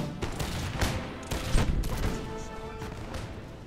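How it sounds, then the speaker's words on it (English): Musket volley fire from infantry units, including an Old Guard unit, in a strategy video game: ragged crackling fusillades in several loud bursts that overlap and roll on over a steady battle din. "they automatically started firing on this old guard unit"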